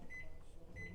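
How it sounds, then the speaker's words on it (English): A microwave oven heating milk hums at a low, steady drone, faint and close, with a soft hiss on top and no talking. "I can operate a microwave."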